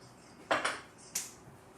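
A metal pot is picked up and set down for making pizza sauce: a couple of close, clanking knocks followed by a lighter ringing clink, fairly quiet with no talk.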